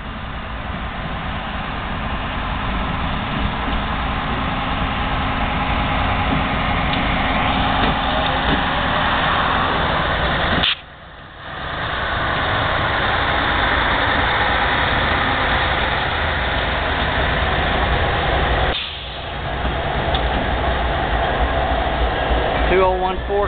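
A GP60 diesel locomotive idles with a steady, loud rumble that runs throughout, briefly dipping twice before resuming its constant drone.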